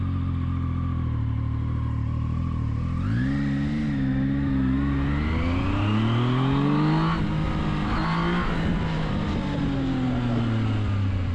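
A Zontes 703F motorcycle engine revs loudly and close, idling and then climbing in pitch through several strong throttle blips before settling again, its rumble dominating throughout.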